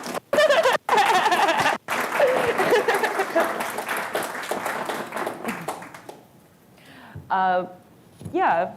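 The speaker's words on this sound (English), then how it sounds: "Everyone give my mom a round of applause." Audience applause fills a comedy convention hall, loud dense clapping from a crowd that fades out, followed by a voice speaking alone at the end.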